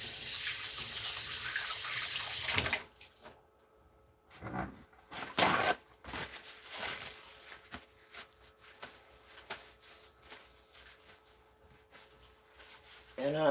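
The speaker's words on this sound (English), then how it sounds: "I'm gonna go ahead and wash my hands again here real quick" Tap water runs in a home kitchen sink during hand washing while cooking, a broad steady rush at the start that then breaks into intermittent splashes and gushes, with a voice speaking over it.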